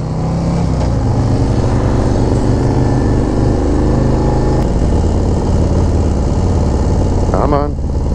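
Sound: 2024 Harley Davidson Street Glide motorcycle engine riding

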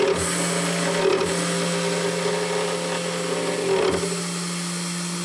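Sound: 3018 CNC milling machine cutting aluminum

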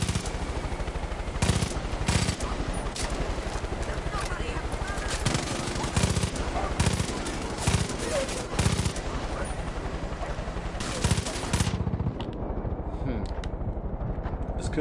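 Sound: gunfire in the video game Far Cry 5

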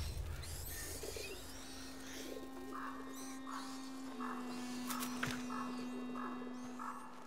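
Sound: owls hooting in the video game A Plague Tale: Innocence

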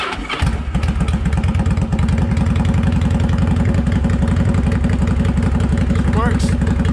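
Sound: Yamaha V-Star 1100 motorcycle engine starting and idling

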